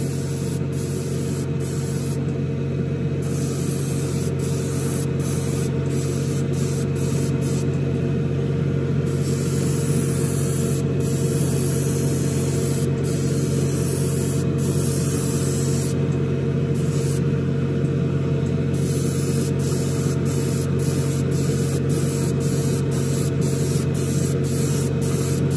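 Airbrush or spray gun laying a wetter second coat of paint on a Revell 1971 Boss 351 Mustang scale model kit, a steady close hiss with brief breaks between passes, continuous and alone.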